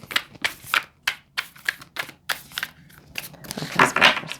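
A quick run of crisp, papery riffling bursts from a deck of tarot cards being shuffled, irregular in rhythm, close and fairly loud, building to a denser flurry near the end.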